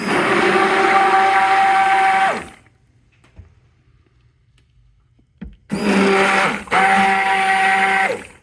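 A blender mixes soap batter in a loud, steady whine for a couple of seconds, falls silent, then roars back in two more close bursts.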